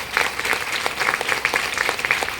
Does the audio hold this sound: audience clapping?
yes